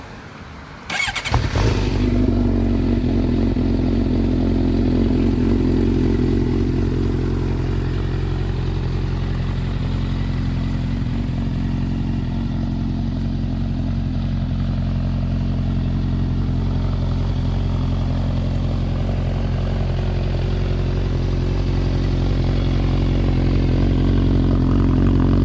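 A Suzuki GSX-R 750 sport motorcycle with a Two Brothers full exhaust cranks and fires up, then settles into a loud, steady idle close by, rumbling without pause.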